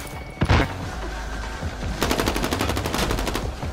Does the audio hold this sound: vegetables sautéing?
no